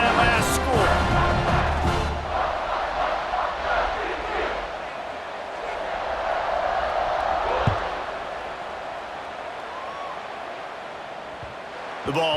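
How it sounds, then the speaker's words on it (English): Stadium crowd buzzing and cheering in the college football video game EA Sports College Football 26 after a touchdown, a loud roar that settles into a steady hum beneath a play-by-play commentator's voice. "this crowd is buzzing after that last score"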